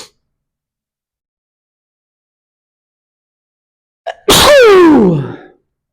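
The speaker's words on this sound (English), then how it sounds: "I can feel a third sneeze coming in." A single loud, close sneeze bursts out near the end after a long stretch of near silence, with a faint intake of breath just before it, during a core yoga session.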